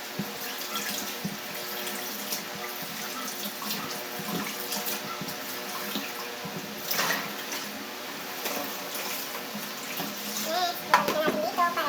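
Water runs steadily from a tap, splashing and trickling as mangoes are rinsed under the stream, with a brief burst of louder splashing near the end.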